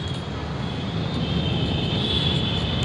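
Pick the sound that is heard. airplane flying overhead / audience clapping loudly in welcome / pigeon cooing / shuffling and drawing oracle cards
airplane flying overhead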